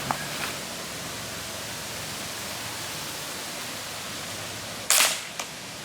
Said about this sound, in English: now I'm going to point it at the target and I'm going to fire it